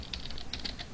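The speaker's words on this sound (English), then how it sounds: "I need to type this slow before I teach you." Quiet close-up typing on a computer keyboard, a handful of distinct key clicks at an uneven pace during Java game programming, with no voice over it.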